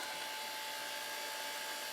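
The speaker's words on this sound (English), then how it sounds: "Now you take the thing, put it in, back in the bell jar. Bell jar on top. Hit the vacuum again." A vacuum pump pulls down a bell jar to degas lost-wax casting investment, giving a faint, steady high-pitched whine and hiss that holds constant throughout with no talk.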